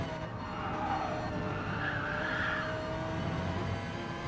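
An Audi race car sliding sideways in GT Sport, a drawn-out tire squeal and skid rising and falling over a constant engine drone at moderate loudness.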